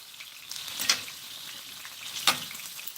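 Cabbage, onion and squash cook in a pan with a steady low sizzle, punctuated by two brief louder crackles or stirs about a second and a half apart.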